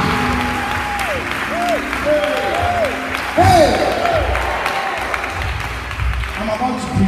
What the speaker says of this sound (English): come on, clap your hands like you are sitting in front of a preacher